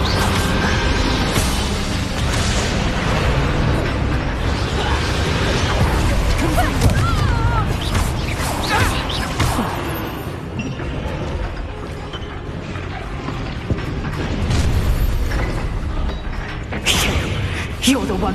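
A Bombarda spell explosion in the video game Hogwarts Legacy: loud, dense combat with crashing bursts and booms over a continuous rumble, and voices speaking through the action.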